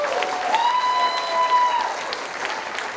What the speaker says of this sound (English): Please give a round of applause for each team.